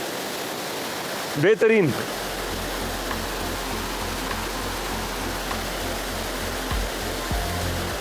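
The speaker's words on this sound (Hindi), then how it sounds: "इधर एक फॉल बना रहा है छोटा सा, फॉल मतलब एक स्टेप बना रहा है।" A small stepped waterfall on a mountain stream in Gurez Valley, Kashmir, pours with a constant close rushing hiss; someone briefly speaks near the start and a low hum appears intermittently.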